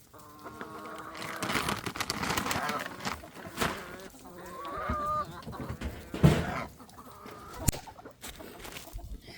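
Backyard chickens in small-town Alabama cluck and squawk at feeding time as feed is put out in a shed, a busy, close, uneven chorus of bird calls with a louder squawk near the middle and some voices mixed in.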